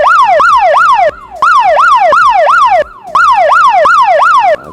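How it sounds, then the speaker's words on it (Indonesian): A loud electronic alarm from a network ONU device being powered off repeatedly sweeps up and down like a siren, in bursts separated by brief pauses. "Dimatikan seperti itu bunyi alarmnya."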